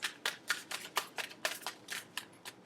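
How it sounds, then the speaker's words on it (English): Tarot cards riffle and slap in quick, quiet shuffles, a string of crisp papery bursts about every quarter second, close and alone with no talking. "2 more shuffles"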